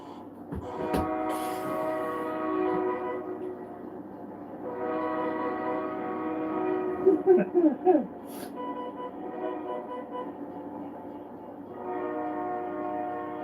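A train rumbles along at a red signal, heard from inside a truck, with sustained horn blasts sounding in several long bursts over a steady low drone while someone talks.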